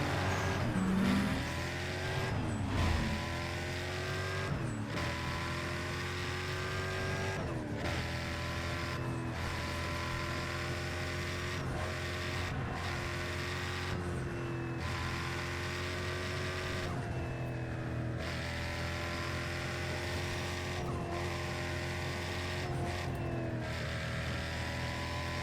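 A 1969 GTO racing in Need For Speed ProStreet, its engine droning and revving steadily throughout with repeated gear shifts and dips in pitch, loud and continuous, no one speaking.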